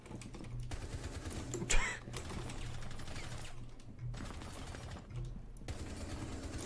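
A firing squad in a video game fires in sustained rattling bursts of rapid gunfire, with one louder crack standing out partway through.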